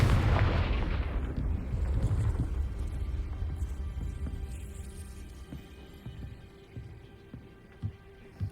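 A Confringo fire-blast spell in Hogwarts Legacy goes off with a big booming explosion at the start, then the rumble tails off into a quieter scene with faint scattered thuds.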